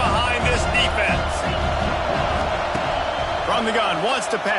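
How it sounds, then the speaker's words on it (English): Football stadium crowd roaring and cheering for the Tennessee defense on third down, a loud continuous wall of noise with whoops, under and around a commentator's voice. "The crowd gets behind this defense."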